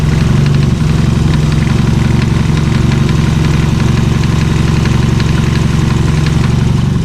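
A Mazda Miata engine idles loudly and steadily, with a rough, rhythmic shaking thrum and knocking pulses from worn motor mounts throughout, close up and without voices.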